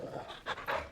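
A dog in the video game Final Fantasy XVI pants in a few quick, soft breaths, close and faint, with nothing else heard.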